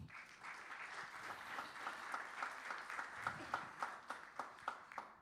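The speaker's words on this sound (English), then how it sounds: "let's give them all a round of applause for making this happen." Scattered applause at the opening ceremony of a men's doubles 10-ball world championship in billiards, fairly quiet and distant, with individual claps growing more distinct and spaced toward the end.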